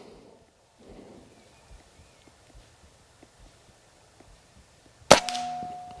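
A 6.35 mm air rifle fires once at a target fifty metres out: a sharp, loud crack near the end with a brief ringing decay, after quiet ambience and light handling taps.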